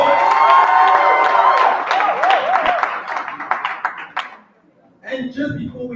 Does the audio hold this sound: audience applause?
yes